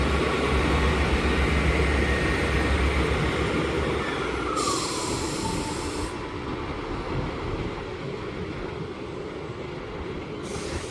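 A Class 158 diesel multiple unit leaving a station at Sheffield, a loud, steady rumble of engine and wheels that slowly fades as it pulls away, with a brief squeal partway through and no talk.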